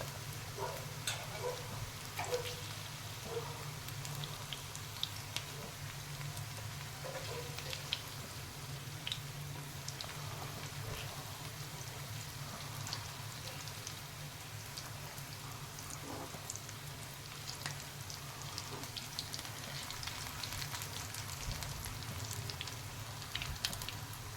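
Onion rings deep-fry in hot oil, a soft, steady bubbling hiss with scattered tiny pops, quiet and continuous over a low hum, without any speech.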